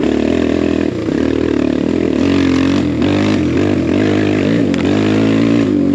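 A BBR KLX170RF dirt bike engine running hard during a ride, loud and close, with steady buzzing drone that rises and falls through throttle changes.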